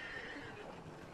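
A horse in Red Dead Redemption 2 lets out a brief, faint whinny lasting about a second over low background noise.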